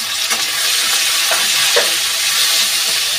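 Garlic paste and tomato frying in a pan for a jackfruit kofta curry, a strong steady sizzle with a few light stirring taps, close and loud throughout, without speech.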